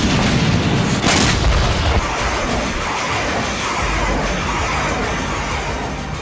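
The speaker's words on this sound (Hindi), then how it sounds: "ओडेसा और सूमी में इसी तरह रात भर मिसाइल स्ट्राइक हुई।" Heavy booming blasts from Russian missile strikes in Odesa, a loud rumbling roar that swells early on, then a dense sustained rumble.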